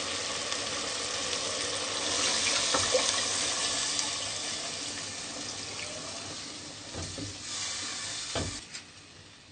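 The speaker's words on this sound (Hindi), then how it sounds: "अब हम 2 गिलास के करीब इसमें पानी शामिल करें, क्योंकि ये कद्दू हमारे अभी नहीं गले।" Water is poured into a pot of cooking bottle gourd and meat for Pakistani lauki gosht, making a steady close splashing hiss with light sizzling. A few soft clinks sound near the end, and no one talks.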